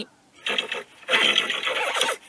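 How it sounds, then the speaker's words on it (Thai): A horse neigh played back by Siri on iOS 14.3 comes through a phone speaker: a short lead-in call, then a longer trembling whinny, moderately loud and close with no talk over it. "เสียงของม้า ม้าออกเสียงอย่างนี้"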